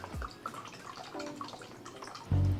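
Water drops fall from a height into the basin of a small homemade desktop rainmaker, scattered quiet drips and plinks with a louder low splash near the end.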